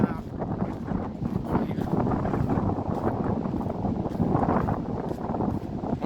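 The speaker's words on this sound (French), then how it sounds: "On a du vent." Strong seaside wind at Tarifa buffets the microphone in a continuous low rumbling roar, loud and close, with a voice faintly mixed beneath it.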